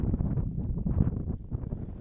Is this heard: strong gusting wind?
yes